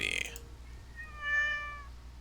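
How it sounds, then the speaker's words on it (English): A black cat gives one clear, drawn-out meow of medium loudness against a quiet background, just after a brief burst of other noise. "The meow sounds again and we turn around"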